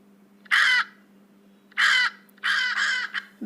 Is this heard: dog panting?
no